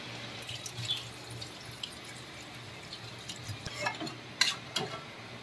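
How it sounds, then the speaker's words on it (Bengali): Water poured into a pan of browned chicken curry, giving a soft splashing and sizzling spread with a few brief clinks and stirs near the end, fairly quiet and without talk. "তো এবার আমি জল দিয়ে দেব।"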